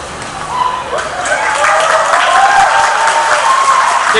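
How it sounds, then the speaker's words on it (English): A crowd applauds retiring staff at a high school graduation ceremony, clapping swelling after a moment into steady, loud applause with some crowd noise mixed in. "Big round of applause for these retirees."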